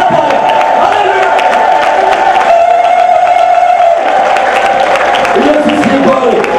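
A church congregation ululates and claps together, a loud sustained high trilling chorus mixed with crowd cheering and voices, filling the whole room.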